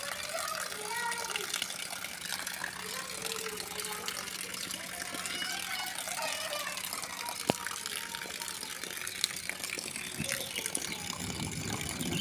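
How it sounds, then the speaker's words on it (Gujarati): Steady broadband hiss of rain falling outdoors, with children and adults talking over it throughout and a brief sharp knock partway through. "બાજુ જો એક વરસાદ ચાલુ છે."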